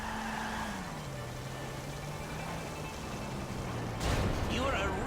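Car engine in Grand Theft Auto V, a steady low drone whose pitch drops slightly and then holds, with a louder burst of noise near the end and game sounds around it.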